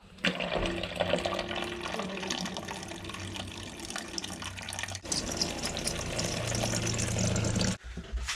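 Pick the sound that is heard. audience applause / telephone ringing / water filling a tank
water filling a tank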